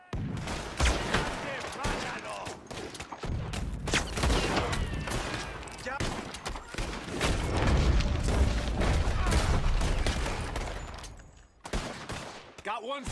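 Sustained gunfire rattles through a Red Dead Redemption 2 shootout near a fort, with dense overlapping rifle and pistol shots and booming reports. Shouting voices are heard amid the fusillade, and the shots briefly thin out near the end.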